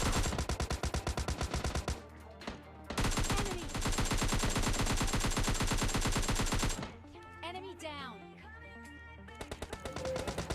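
Rapid automatic gunfire from the mobile game PUBG Mobile Lite, with loud dense bursts of repeated shots, a brief pause, then more firing and sporadic shots near the end.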